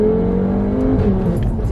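Audi RS3 8P with an MRC Stage 2 tune accelerating hard, engine note climbing then dropping sharply at a quick gear change before pulling again, loud from inside the car.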